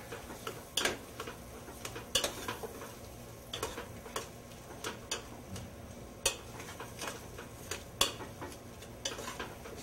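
Mashed black beans being mixed with onions and pork lard for refried beans, a series of irregular clicks and knocks of a utensil against the pan over a faint background sizzle.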